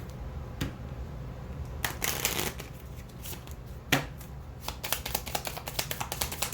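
Tarot cards being shuffled up close, rapid riffling and flicking bursts with a few sharper snaps, continuous and fairly quiet.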